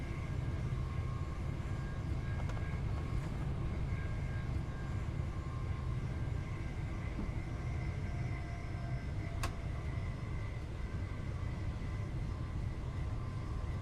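A train in the Train Sim World 2 game on the London to Gatwick route runs steadily with a constant low rumble and whine of motors, broad and unchanging, with a few faint clicks.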